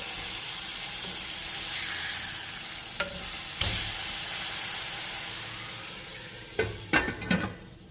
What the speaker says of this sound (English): burgers are cooking up